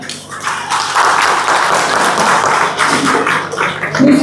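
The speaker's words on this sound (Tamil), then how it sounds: "இவ்வளவுதான் அக்காவோட பேச்சுக்கு கைத்தட்டல்." An audience at an iftar fast-breaking gathering of a Tamil diaspora welfare association applauds a woman's speech, a steady wash of clapping from a crowd that holds level for several seconds.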